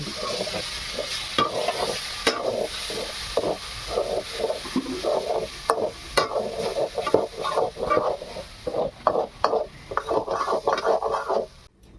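Vegetables sizzle loudly in a pan while a spoon stirs and scrapes in quick, uneven strokes, close up with no talking.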